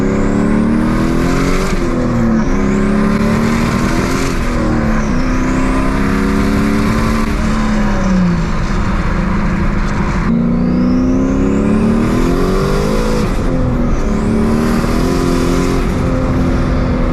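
A big turbo Camaro F-body revving hard at a car meet, engine sweeping up and down in repeated loud pulls with turbo whine, close and continuous with no talk.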